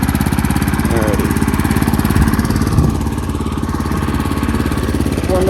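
A tractor engine idles while warming up, a steady rapid chugging throb that holds loud and close with no pauses, the even pulse running unbroken from start to finish.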